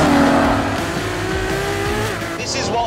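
A 950-horsepower supercar with a hybrid electric motor and battery accelerates hard on a track, its engine roaring loudly up through the gears with rising pitch and brief shifts, very close and dominant.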